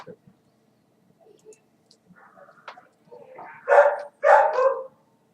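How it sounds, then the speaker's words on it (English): A dog gives two loud, close barks in quick succession after a stretch of quiet scattered clicks and faint noises. "Fucking dog."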